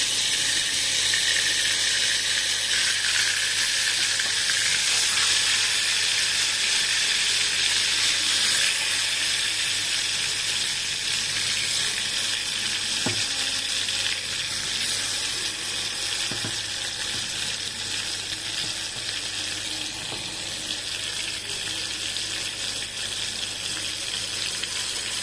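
Masala-dipped chicken pieces fry in hot oil with a constant, loud, even hiss and bubbling sizzle that runs without pause, with a few faint clicks from the pan.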